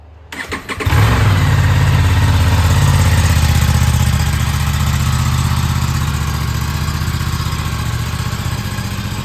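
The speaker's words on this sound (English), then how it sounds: "So here am I on board the Aprilia RS457. I'm taking a very short morning spin." An Aprilia RS457 motorcycle engine fires up after a brief crank and settles into a steady, loud idle close by, droning continuously with no voices.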